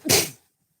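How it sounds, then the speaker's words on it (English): One short, explosive sneeze bursts out close by, then silence follows. "Did not mean to sneeze."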